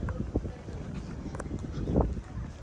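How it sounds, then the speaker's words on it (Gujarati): Cool wind blows across a dam beside the Statue of Unity in Gujarat, rumbling as gusty buffeting against the microphone with a few faint voices in the background. "એકદમ ઠંડો ઠંડો પવન આવે છે"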